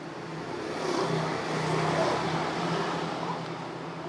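A Honda S90 motorcycle engine idles steadily in a workshop, a continuous low rumble that holds at an even, moderately loud level throughout with faint background noise.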